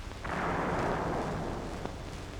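A 1944-era tank gun fires an armor-piercing capped M61 round with a base-detonating fuse at pillbox loopholes, a single heavy boom rolling into a sustained rumbling roar that slowly fades, with a faint later thump.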